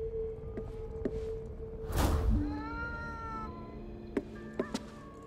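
A cat meows in the video game Ghostwire: Tokyo, one drawn-out, fairly clear meow after a whooshing burst, with faint taps and steady background tones around it.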